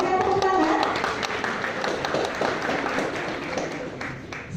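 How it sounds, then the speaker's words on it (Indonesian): Applause from a crowd at a halal bihalal gathering of PT Surveyor Indonesia staff at their office, a dense, steady clatter of many hands lasting several seconds, with faint voices mixed in at the start. "Boleh berikan tepuk tangan?"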